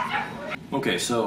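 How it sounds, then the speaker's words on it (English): Dogs barking and yipping in the background while a person speaks over them, a brief burst of sharp high yelps and whimpers partly covered by the voice. "Excuse the dogs in the background."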